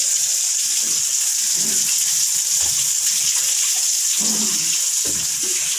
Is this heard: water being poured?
yes